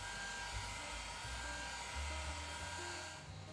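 A heat gun blows steadily on an iPhone 11 screen to soften it for opening, a continuous close whirring hum with constant loudness and no voices.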